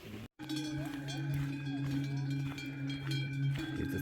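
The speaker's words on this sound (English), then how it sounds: "You just hear there are cows." Cowbells clank steadily amid a herd of cattle on the Tour du Mont Blanc trail, with a continuous tonal ringing and bustle throughout, briefly cutting out near the start.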